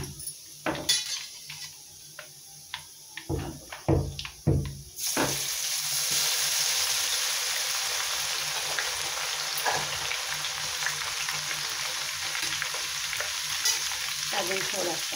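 Garlic dropped into hot oil in a pan for a puffed-rice chivda, first a few clinks and stirring knocks, then a steady loud sizzle of frying that holds to the end.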